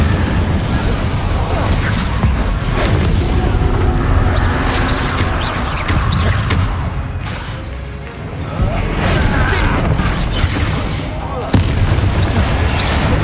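Incendio fire spells in Hogwarts Legacy burst with loud, repeated booms and crashing blasts across a busy battle soundscape. A voice talks over parts of it, and a fresh blast hits near the end.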